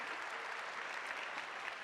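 An audience at a cosplay contest gives a dense, even round of applause, heard from a little distance, filling the short span with steady clapping.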